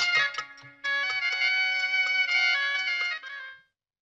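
A phone rings with a bright electronic ringtone, a few choppy tones at first and then a sustained melodic ring that runs for about three seconds before stopping, loud and close with no talking.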